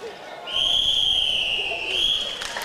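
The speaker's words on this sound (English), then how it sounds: "That's the final whistle." A referee's long final whistle in an indoor netball match at the Wildy Gymnasium, Sir Garfield Sobers Sports Complex: a loud, steady blast of about two seconds, slightly rising at the end, over crowd noise and a commentator talking.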